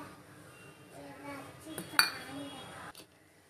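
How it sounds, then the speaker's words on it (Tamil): A metal pressure cooker is set down on a kitchen stove, giving soft clinks and a brighter metallic clank midway, fairly quiet and close with faint room sound around it. "குக்கர் அடுப்பில் வச்சுட்டு"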